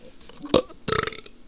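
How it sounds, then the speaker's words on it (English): A close, loud burp rises in two bursts, a short sharp belch followed by a longer croaking one, with no speech. "If you just heard that burp, I'm sorry."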